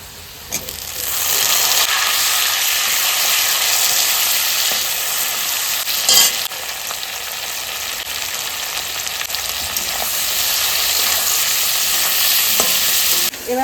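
Continuous close sizzling of tomatoes frying in a hot pan with repeated scraping and stirring strokes, holding fairly even over a long stretch, no voices.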